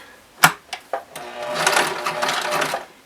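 A sewing machine zigzag-stitches the seams of a pair of pants, starting with a few separate clicks and then running in a steady close whirring burst before it stops.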